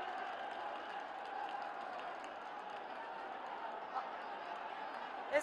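Steady crowd applause at an outdoor election rally in Rudrapur, Uttarakhand, a continuous even wash of many hands clapping, moderately loud and unbroken throughout.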